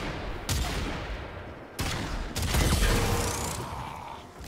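Weapon fire in a video game: several sharp, loud bursts of shots, one near the start, another around the middle and a longer rattling volley toward the end, with no talking.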